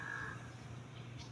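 Crows caw faintly in the distance, a short harsh call at the start over a steady low outdoor hum.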